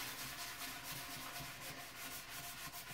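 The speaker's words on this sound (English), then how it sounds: "So I'm just going to scrub just a minute longer." A brush scrubs hard water stains in a toilet bowl, a steady, faint rubbing swish repeating in quick strokes, with no voices.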